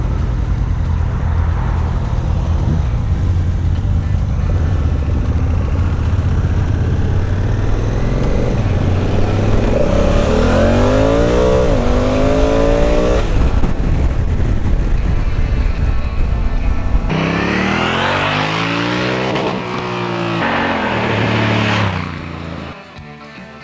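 A Honda CRF1000L Africa Twin motorcycle ridden on the road, its engine droning loudly and steadily with rising and falling revs through gear changes, heavy wind rush throughout and a fade near the end.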